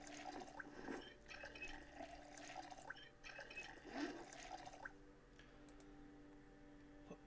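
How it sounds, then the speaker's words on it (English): Running water fills three bottles in the survival game Project Zomboid, a close trickling stream with light drips and small clicks that fades toward the end; no one speaks. "Fill all them three water bottles."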